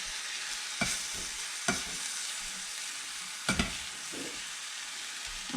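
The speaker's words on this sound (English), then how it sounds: "We're going to sprinkle the flour on. And toss it to coat the meat." Beef chunks tossed with sprinkled flour in a hot pot for beef bourguignon, a continuous low sizzle broken by a few sharp clanks of utensil against metal, no voices.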